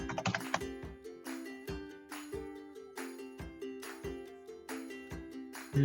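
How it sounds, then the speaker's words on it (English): Close computer keyboard typing, a rapid run of sharp clicks at the start followed by slower, evenly spaced keystrokes, fairly quiet with no voices. "Let's type in GrooveFunnels."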